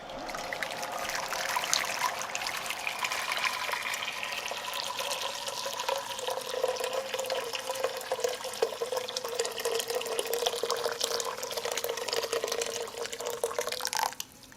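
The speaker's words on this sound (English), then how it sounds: "Let me wash my hands." Hands washed under a running kitchen tap while making dough for Mexican buñuelos: a steady stream of water splashing and trickling for over ten seconds, close and even, cutting off abruptly at the end.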